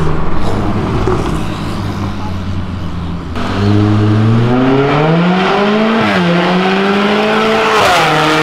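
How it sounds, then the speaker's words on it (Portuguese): At a car meet, a car drifts with a loud engine that rises and dips in pitch, heard close. Tire noise runs under it and a voice talks over part of it. "Fazendo drift."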